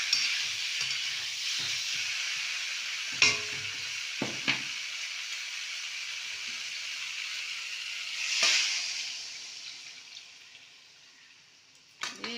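Water hits a hot pan of fried curry base for bhetki fish with cauliflower and potato, giving a steady sizzling hiss with a few clattering knocks, a louder hissing swell, then a slow fade before a final clatter.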